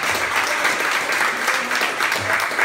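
A small live-venue crowd at a club concert claps continuously after a band's set, the applause even and sustained with faint voices mixed in.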